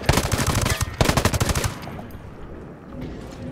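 Automatic gunfire from the video game Ghost Recon Breakpoint, two loud rapid bursts back to back, then a fading rumble and faint background noise.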